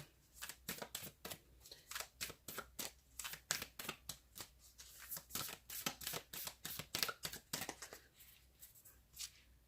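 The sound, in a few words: shuffling tarot cards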